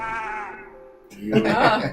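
A person imitates a sheep's bleat with a long wavering nasal tone during a tabletop role-playing game session, followed by a burst of laughter and chatter from the group.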